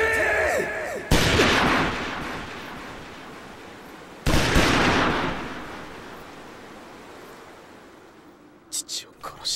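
Two loud volleys of musket gunfire crack out in a Samurai Warriors 4 cutscene at the Battle of Hitotoribashi, each a sudden blast that trails off into rumbling noise, with faint whispered voices and small clicks near the end.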